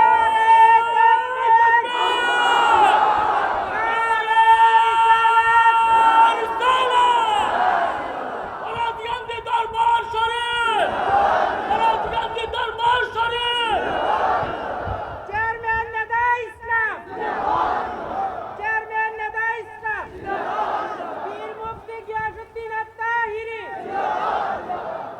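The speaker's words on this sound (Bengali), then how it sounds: "এখন একটা স্লোগান দেয়" A large crowd at a religious gathering chants a slogan in repeated loud call-and-response waves of massed voices, with a leader's amplified voice between the bursts, echoing across an open space.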